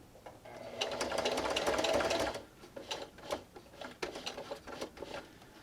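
A sewing machine runs fast and steady for about two seconds while stitching a fabric pencil-holder bookmark, then continues in short, uneven bursts of whirring and needle clatter, close and clear.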